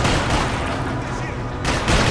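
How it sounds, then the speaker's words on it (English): Gunfire from blind firing in the Max Payne 3 video game: a dense burst of loud shots that rumbles on for about two seconds, with a sharper crack near the end. "Nice to blind fire, Liam."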